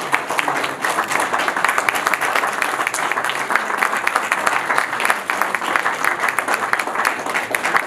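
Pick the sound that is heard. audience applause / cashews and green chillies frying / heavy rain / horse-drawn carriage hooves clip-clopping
audience applause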